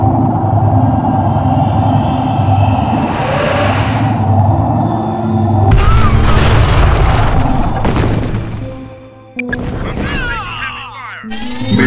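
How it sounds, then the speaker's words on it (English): Missile launch and explosion in the strategy game Tiberian Sun, a loud whooshing roar building into a heavy boom with rumbling debris, then a brief drop and renewed blasts over a steady low game-engine drone. "Missile launch detected."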